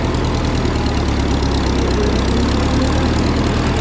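A Minneapolis Moline RTI tractor engine running in second gear, a steady, loud, low mechanical drone with a slight knocking throb, close by and without talk.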